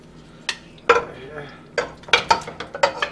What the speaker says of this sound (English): Put the meat into the pot